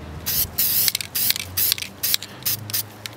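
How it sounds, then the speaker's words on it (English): Short bursts of spray paint hiss onto EVA foam in quick succession, several sharp sprays separated by brief pauses, close and fairly loud. "as soon as the spray is on, even before it dries"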